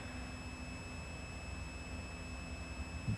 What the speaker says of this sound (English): The buzzer sound, right? So it should be connected.